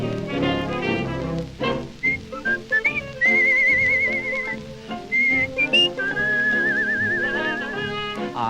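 Someone whistles a bright, wavering melody with vibrato on held notes, over a bouncy musical backing.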